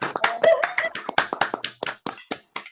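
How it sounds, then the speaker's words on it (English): Scattered applause on a video call, a few people clapping unevenly at close range, sharp individual claps with irregular rhythm and no speech. "let's give a rousing round of applause to Lenny Duncan."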